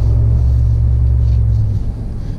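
A truck at a German construction site idles as a loud, close, deep rumbling engine drone, then shifts and pulls away as the low hum changes near the end.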